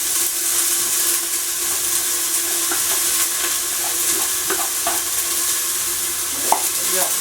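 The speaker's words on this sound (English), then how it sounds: "But what we're looking to do is just saute the onion." Frozen onion sautéing in a pan gives a steady, moderately loud sizzle, with light scraping and clicking from stirring scattered through it.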